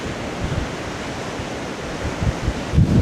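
Sea waves and strong wind on the Baltic coast between Ustka and Łeba: a broad, steady rushing wash with gusty wind buffeting the microphone and a few heavier surges near the end.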